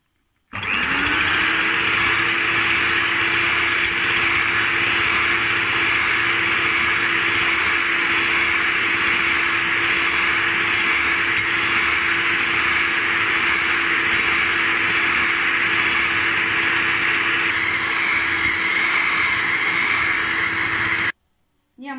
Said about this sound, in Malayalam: ഒരു ഹാൻഡ് മിക്സർ വെച്ച് നന്നായിട്ട് ബീറ്റ് ചെയ്തെടുക്കണം.